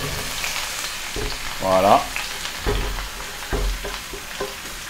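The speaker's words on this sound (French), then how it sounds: "notre beurre est bien fondu. Donc là, on ajoute nos oignons" Onions frying in melted butter for French onion soup, a soft steady sizzle with stirring knocks, and someone briefly speaking over it.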